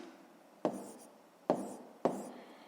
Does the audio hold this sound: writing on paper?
yes